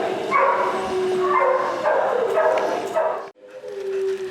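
Dogs bark and yip steadily at an animal shelter, several voices overlapping in a busy kennel with a brief drop in the noise near the end.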